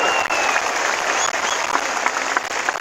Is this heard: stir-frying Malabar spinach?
no